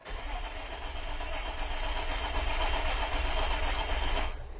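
A car engine cranks continuously without catching during no-start diagnosis, a steady droning starter whir for about four seconds that cuts off near the end, fairly loud with no talking.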